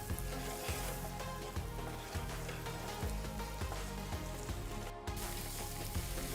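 Six boiled eggs coated in masala fry in a pan over a low flame, giving a soft, even sizzle with regular dull knocks of stirring, quiet and close, with no one talking.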